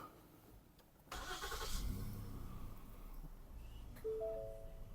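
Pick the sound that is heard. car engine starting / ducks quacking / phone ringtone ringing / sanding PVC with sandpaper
car engine starting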